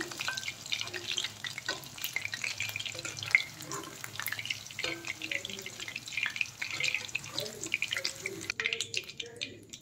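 Chicken pakoras deep-frying in hot oil, a soft, steady bubbling hiss with scattered small crackles and occasional clinks, while a voice talks quietly over the frying.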